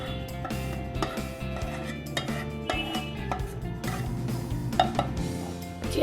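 Sweet peanut chikki mixture being scraped from a pan onto a ghee-greased plate, with close, busy clinks and scrapes of metal utensils against cookware that continue steadily throughout.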